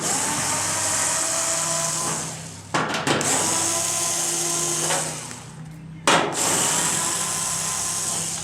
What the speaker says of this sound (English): It's going to take a 1/4 inch nut driver, but I'm going to use a drill gun.